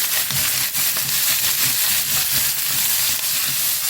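Onions sauté steadily in hot oil in a pan as part of a chicken fry, a continuous close sizzle with a faint crackle throughout and no voices.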